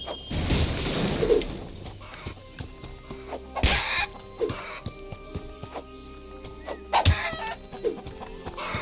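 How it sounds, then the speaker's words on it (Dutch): Chickens clucking in short bursts in the video game Sir Whoopass: Immortal Death, among other farmyard animal calls and hoofbeat-like clicks, with a sustained musical tone underneath, nearby and moderate. "Hier lopen nog wat kippen."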